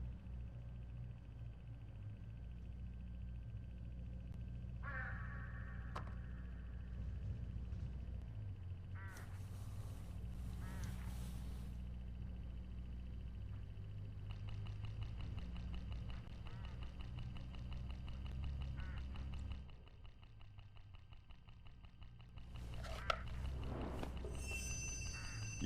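A flock of crows gathers in Hitchhiker, giving scattered harsh caws in short bursts over a low steady hum. Someone speaks at times between the calls.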